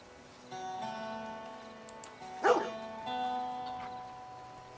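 A dog barks in Red Dead Redemption 2 Online, a short burst of yips rising over a steady in-game hum and music.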